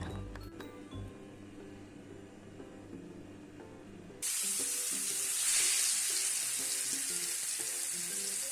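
King fish coated in tandoori masala fries in a pan, with a low humming start, then a loud, bright steady sizzle that swells midway and keeps going, close up.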